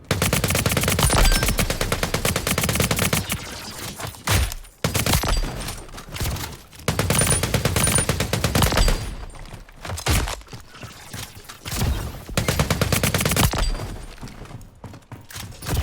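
Rapid automatic gunfire from the Empulse shooter game, sustained loud bursts of fire broken by short pauses, close and dense with cracking reports and no talking.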